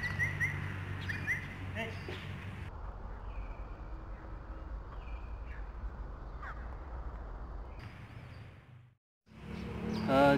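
An Asian pied starling (Jalak Suren) gives harsh squawking and chirping calls, several bursts at the start and again at the end, with softer calls in between.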